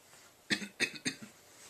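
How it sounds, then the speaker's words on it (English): A few short, sharp coughs in quick succession, close and fairly loud, followed by a softer trailing cough, with quiet room tone around them. "I do have vocal tics as well, the coughing and some other noises"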